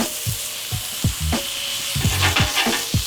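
Beef stroganoff ingredients frying in butter in a pan, a steady close sizzle with repeated scraping stirs of a utensil in an uneven rhythm, no voices.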